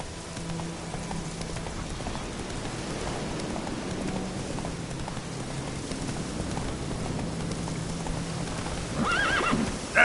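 The horse Roach gallops through rain in The Witcher 3, with rhythmic hoofbeats over a steady patter of rainfall, ending in a whinny near the close.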